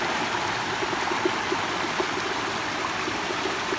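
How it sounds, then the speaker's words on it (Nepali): A small waterfall stream on the Khumai Danda mountain trail makes a continuous, close rushing and burbling of water, with no voices heard. "यो चाहिँ हाम्रो मिनी झरना हो"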